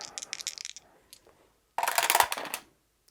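Dice rolled during a solo play session of the board game 2 Minutes to Midnight: a short clatter and tumble of dice, loud and close, with a quieter rattle just before.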